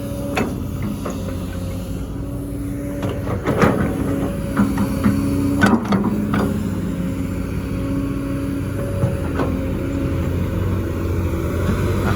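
An excavator drives along a newly built road, its engine a steady, fairly close drone broken by a few sharp metallic clanks and knocks, with no talking.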